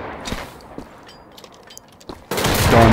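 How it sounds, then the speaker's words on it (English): Bursts of gunfire from Wolfenstein: The Old Blood on Uber difficulty, several sharp shots and then a loud sustained blast of fire at the end, with no voices. "I just fired on them."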